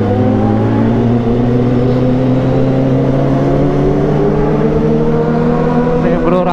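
A group of about eleven Kawasaki ZX25R motorcycles rides together, engines droning loud and close with steady rising pitch as they cruise, the riders' voices faintly under the engine noise.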